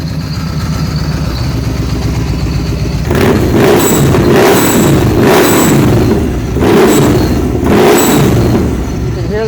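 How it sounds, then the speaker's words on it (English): A supercharged 2013 Victory Cross Country motorcycle engine idles close by, then revs in several loud bursts, each followed by a thin high whistle from the blow-off valve. "you will hear this whistling noise on this side. That's the blow-off valve located right here"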